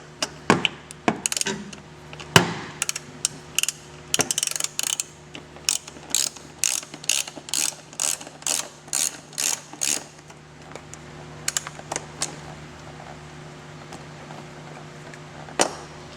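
A 6mm Allen bolt is worked out of a motorcycle seat mount, giving a long run of sharp, close metallic clicks in a quick, ratchet-like rhythm with a few heavier knocks, which thin out toward the end.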